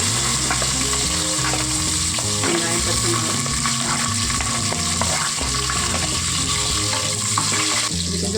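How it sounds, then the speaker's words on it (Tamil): Steady, loud sizzling of mustard and cumin seeds frying in hot oil, a dense crackle with occasional stirring scrapes throughout, no talking. "எண்ணெய் காஞ்சிருச்சு ஒரு ஸ்பூன் போல் கடுகு போட்டு சீரகமும் ஒரு அரை ஸ்பூன் போட்டுக்குவோம்"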